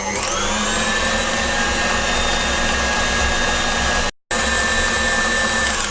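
An electric mixer whisks homemade marshmallow mixture with a loud, steady whine that runs without a break except for one momentary cut near the end.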